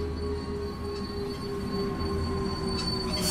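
Train wheels squealing steadily in a train video game, a sustained high metallic whine over a low rolling rumble, fairly close and without talk.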